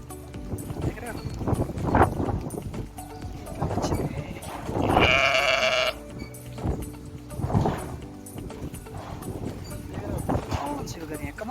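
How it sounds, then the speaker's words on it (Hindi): Goats on a farm in Saudi Arabia bleat and call out at intervals amid general livestock noise, with someone talking over the animals throughout. "कौन सी बकरियाँ, कमाल कमाल की बकरियाँ और हर नस्ल की बकरियाँ भाई"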